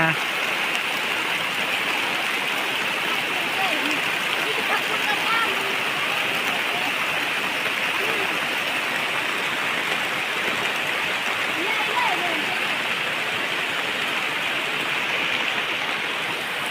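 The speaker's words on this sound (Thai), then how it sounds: "บัดนี้พอดีฝนตกมา" Steady rain falls outdoors during a wild fern-foraging trip, a dense even hiss of drops lasting throughout, with a voice speaking over it.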